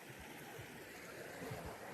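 A small stream flows through a tropical village in the Philippines, giving a steady, continuous rush of running water that stays even throughout, with no voices.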